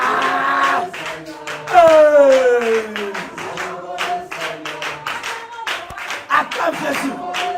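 A church congregation clapping in steady rhythmic unison during lively French worship, loud and close, with sung voices and chanted praise carrying over the claps throughout.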